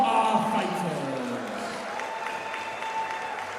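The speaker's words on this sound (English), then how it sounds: "can we please have a big round of applause for both of our fighters" Crowd applause at a boxing event after a TKO win, a dense burst of clapping loudest at the start and then settling into steady, slightly quieter clapping and crowd noise throughout.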